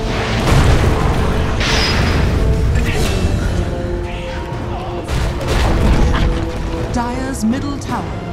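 A tower crumbling in the Dota 2 video game, heard as loud booming impacts and bursts over a dense, continuous game soundscape, with voices talking throughout.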